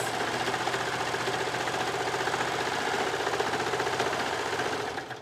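A sewing machine runs steadily, stitching straight across the layers at the bottom hem of a shirt, making a continuous close mechanical whir with a fine rapid rhythm, loud and alone for about five seconds before it slows at the end.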